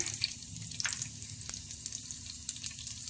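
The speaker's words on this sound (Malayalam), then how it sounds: "എണ്ണ ചൂടാകുമ്പോൾ അതിലേക്ക് നമുക്ക് 2 അല്ലി വെളുത്തുള്ളി അരിഞ്ഞതിട്ട് കൊടുക്കാം." Chopped garlic hits hot coconut oil in a pan with a soft, steady sizzle. A few faint clinks and stirring sounds come through, and nobody talks.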